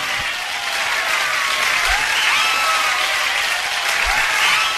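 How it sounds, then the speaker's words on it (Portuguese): A studio audience applauds a guest being introduced on a talk show: a continuous, even wash of clapping from many hands, loud and sustained from start to finish, with no talk over it. "Eu quero muitos aplausos para Sérgio Besserman"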